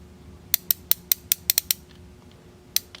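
A Mac Tools 100-tooth 1/2 inch drive roto ratchet gives a quick run of about eight crisp, sharp clicks, then a pause and one or two more; close and distinct against a quiet background.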